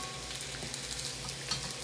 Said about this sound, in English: That's only because they are frying in oil.